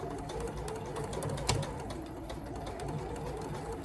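Sewing machine stitching along an existing seam at the waist of men's slacks, running slowly over thick fabric: a fast, steady mechanical chatter of needle strokes, close and moderately quiet, with one brief sharper knock partway through.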